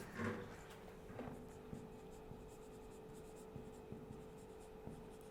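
Writing on a board during a chemistry lecture, with repeated close scratchy strokes and small taps over a steady room hum, continuing without speech.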